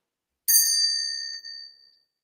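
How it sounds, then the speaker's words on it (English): A small ritual bell is struck once to open a ritual, giving a bright, clear ding that rings on and slowly fades over about a second and a half, close and alone. "we have our ritual bell, and this is to indicate that we have started the ritual"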